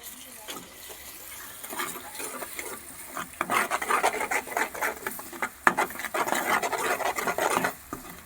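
Spices such as coriander-cumin powder and asafoetida are stirred in a pan, giving soft, irregular scraping and rubbing sounds at moderate volume, with faint background noise throughout.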